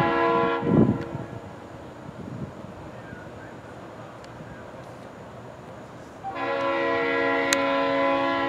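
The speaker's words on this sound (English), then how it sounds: "here we have NS821 hopper train westbound here in Suffolk." A westbound Norfolk Southern hopper freight train in Suffolk, led by an RS3 locomotive, sounds its horn with a loud sustained chord at the start, then rumbles past steadily before a second long horn blast closes the passage.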